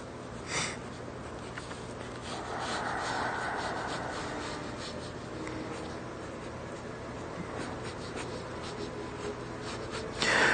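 Pencil strokes sketch a character design in continuous close rubbing and scratching, steady and moderately quiet, with an occasional sniff in the background.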